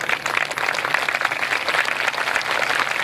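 A live audience at a Rama Katha discourse in Solapur claps together in dense, continuous applause, steady and fairly loud with no voice over it.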